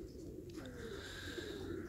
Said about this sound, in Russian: А половина сидит в голубятне. Там такой галдеж.